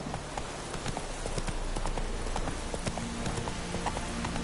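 Hooves of a horse gallop in a quick, even rhythm in The Witcher 3: Wild Hunt, loud and close over a steady rumbling game backdrop.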